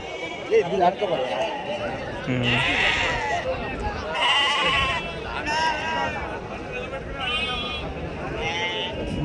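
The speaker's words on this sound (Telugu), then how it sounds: "ఇవన్నీ పొట్టేలు పిల్లలు పొట్టేలు పిల్లలు" Young rams bleat repeatedly at a busy Bakrid sheep market, the calls rising over a crowd of people talking close by.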